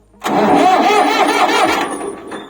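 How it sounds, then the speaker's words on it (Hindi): A tractor's electric starter cranks its engine in one sustained loud burst of about two seconds, a steady churning rumble with no catch or settle into idle, then tails off. No one speaks. "और अब मैं क्या करता हूँ, इसको जैसे ट्रैक्टर को स्टार्ट करता हूँ"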